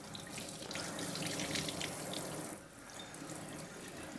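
Tap water runs steadily into a sink, rinsing the filter of a Shark Power Detect robot vacuum, a close, continuous splashing rush that eases to a softer flow near the end.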